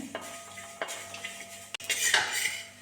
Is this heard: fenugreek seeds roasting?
yes